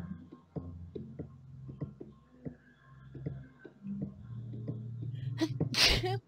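A loud, close sneeze bursts out near the end after quiet ticking and faint background noises.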